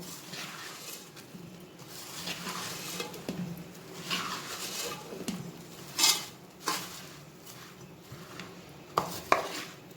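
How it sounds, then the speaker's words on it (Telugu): Puffed rice laddu mixture is stirred fast in a pot, with quick rhythmic scraping and clinking of a spoon against metal, close and moderately loud, punctuated by a few sharper knocks. "ఈ విధంగా కలుపుకోవాలండి, చాలా ఫాస్ట్గా కలుపుకోవాలి"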